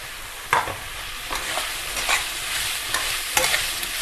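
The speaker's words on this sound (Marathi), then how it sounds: "थोडंसं परतून घेऊया।" Vegetables and rice for khichdi sautéing in a pan, a continuous close sizzle broken by repeated scraping strokes of a spoon stirring, with no voices.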